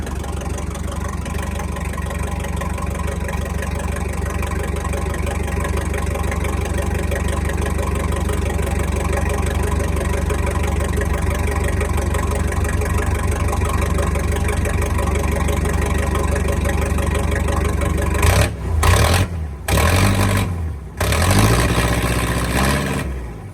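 Case 430 tractor engine idling with no muffler after sitting all winter, a loud, steady, throbbing low-pitched rumble close by, breaking into a few sharp uneven bursts near the end.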